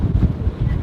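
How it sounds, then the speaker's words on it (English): Strong wind gusts buffet a sailboat in the middle of a thunderstorm, a low rumbling roar with surging pulses of wind noise against the microphone. "middle of the thunderstorm where the gusts are developing. It's getting windier and windier"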